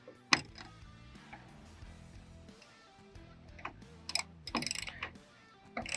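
A ratchet tightens a GateGuard tailgate latch guard with short bursts of clicking, a few sharp metallic knocks and quiet pauses between the strokes, close up and without any talking.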